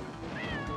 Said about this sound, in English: So that Pura isn't just meowing for another 100 laps.